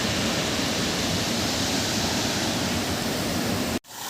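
Water from a 7.5 HP AC motor pump's pipe outlet rushes in a dense, steady roar during testing, loud and continuous, then cuts off abruptly near the end.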